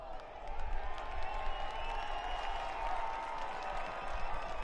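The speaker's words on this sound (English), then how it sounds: "Applause after Lee Vyman brought that one down." Stadium crowd applauding at a Spokane Velocity FC vs Northern Colorado Hailstorm FC soccer match, a broad, distant roar of clapping and cheering with voices carrying over it.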